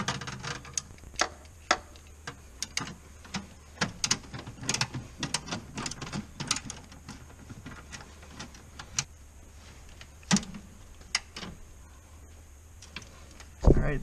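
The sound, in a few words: ratchet with 12 mm swivel tightening valve cover bolts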